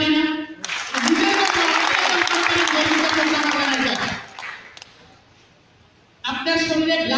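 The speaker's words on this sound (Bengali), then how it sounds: "আমরা কি নিজের জন্য একটা করতালি দিতে পারি না?" Audience applause at a company meeting, a burst of dense clapping lasting about three seconds that fades out, with a speaking voice before and after it.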